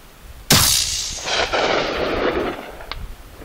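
A single sharp gunshot fired at a target 80 metres away cracks loudly outdoors, followed by a rolling echo and a fainter second report about two seconds later.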